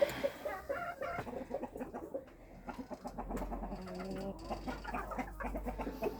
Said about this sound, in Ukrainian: Курки і півнички.